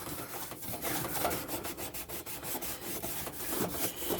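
Steady rhythmic rubbing of sandpaper against aluminum by hand, quick back-and-forth strokes repeating without pause, close and fairly quiet.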